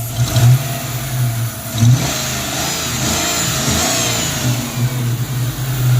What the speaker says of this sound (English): Let's see if it'll take any throttle input.